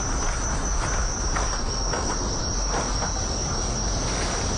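Boiled crickets dry-roasting in a pan give off a steady, dense crackling and sizzling texture. It runs continuously at a moderate level with no speech.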